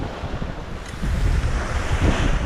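Sea waves surge and wash in the West Philippine Sea, with heavy wind buffeting the microphone. The roar swells louder partway through, and nobody speaks.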